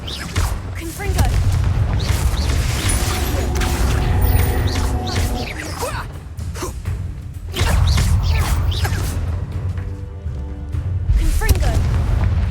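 Repeated heavy booming blasts from Confringo spell explosions in the Hogwarts Legacy video game on PS5, loud and sustained in bursts with crackling debris, over a dense combat soundscape and voices.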